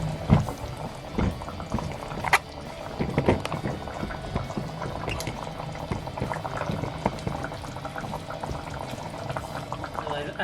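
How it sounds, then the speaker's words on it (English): Cod pieces go into a simmering fish curry in a pot, with a bubbling, gurgling boil and scattered splashes and knocks close by, fairly quiet and continuous throughout. "Added the fish now."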